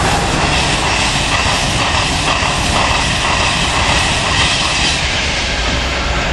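A train at a station platform roars loudly and steadily, a dense broadband rumble at close range that stays constant throughout, with no voices.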